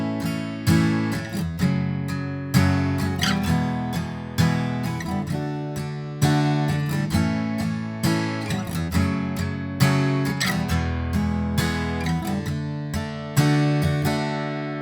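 Acoustic guitar strumming verse chords, one strumming pattern per chord, steady rhythmic strums close and loud with no voices.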